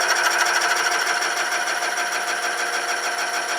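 A drill bit slowly boring into a vase gives a steady, loud, continuous high-pitched buzzing whine, unbroken and close, with no talking over it.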